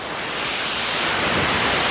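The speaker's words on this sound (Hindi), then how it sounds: "बहुत ही बड़ा झरना है, पूरी वेग से पानी ऊपर से नीचे आ रहा है।" Pushpawati waterfall in the Valley of Flowers rushes at full force, a loud, steady broadband roar of falling water that holds constant without a break, close by and alone.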